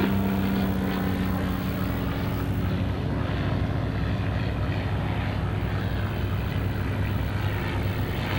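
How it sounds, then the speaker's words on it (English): A Piper Cub L-4 propeller airplane drones overhead at a World War II airshow, its steady engine hum loud and constant throughout, with no voices. "I see the little Piper Cub, that's the L4 above our heads here."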